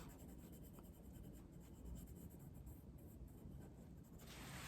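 A colored pencil scratches across paper in quick, faint, steady strokes, a soft continuous scraping close by.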